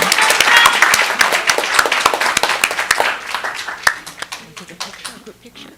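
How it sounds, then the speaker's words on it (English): Audience applause at a school district board meeting, dense clapping close and loud at first, then thinning into scattered claps as it fades out over several seconds. "Let's give them a round of applause."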